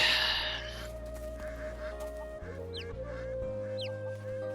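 Chickens in the video game Gujian 3 cluck and squawk faintly over steady game music and ambient tones, with a few sharp short calls.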